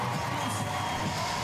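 Arena crowd at a gymnastics apparatus final cheering after Carlos Yulo's vault, a steady wash of applause and voices filling the hall, loud and continuous.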